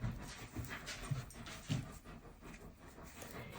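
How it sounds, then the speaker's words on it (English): A puppy pants softly in the background of a quiet room, rapid rhythmic breaths with faint whimpery sounds, close but low in level, no talking. "If you hear panting in the background, that's my puppy that came to join me."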